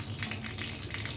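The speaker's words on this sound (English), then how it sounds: "I'm gonna turn on the water from the tub" Water runs from a bathtub tap indoors in a bathroom, a steady, close rushing flow with a constant broadband hiss and no voices.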